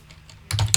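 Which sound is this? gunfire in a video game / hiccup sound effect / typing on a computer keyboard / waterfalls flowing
typing on a computer keyboard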